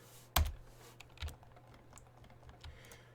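Fingers tap at a computer keyboard with a few quiet, sparse keystrokes, one sharper press near the start and lighter clicks after, close and soft, with no voices.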